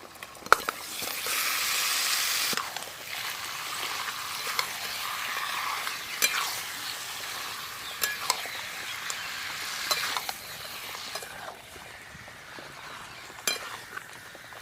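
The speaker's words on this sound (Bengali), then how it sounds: "মশলার সঙ্গে মাংস খুব ভালো করে কষে নেব।" Country chicken meat fries with spices in a pan, a close, steady sizzle broken by stirring scrapes and occasional metallic clinks of a spoon against the pan.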